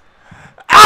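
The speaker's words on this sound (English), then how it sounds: "I gotta sneeze." A single sharp, loud sneeze bursts out after a faint, breathy build-up, close and alone.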